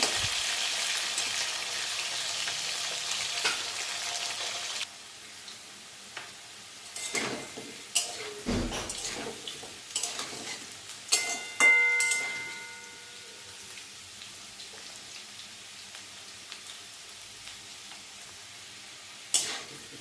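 Potatoes fry in oil in a pan for a potato and pointed-gourd curry: a steady, fairly loud sizzle at first that drops to a softer crackle, broken by occasional sharp utensil clicks and scrapes.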